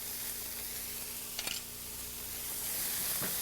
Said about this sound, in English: Saute them for another minute